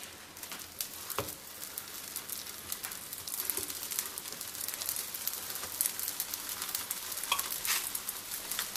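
A vegetable-filled flatbread fries in an oiled, preheated griddle pan, giving a steady, quiet crackling sizzle with scattered sharper pops and no talking.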